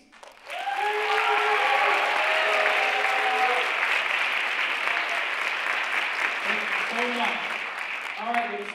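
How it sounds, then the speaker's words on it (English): At a high school winter chorus concert, the audience breaks into loud, sustained applause for volunteer singers, a thick, even wash of clapping lasting several seconds, with voices and a tonal murmur audible around it before it tapers. "will you raise your hand so we can applaud you"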